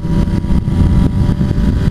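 A Honda CBR motorcycle engine revs hard and steadily with a loud, dense low rumble, pulsing slightly as it accelerates, close by and without voices.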